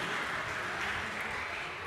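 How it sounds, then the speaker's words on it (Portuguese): Congregation applause at a Baptist church service in Jundiaí, a soft, continuous patter of many hands clapping, fairly faint and even throughout, with no clear talking over it. "Podem aplaudir."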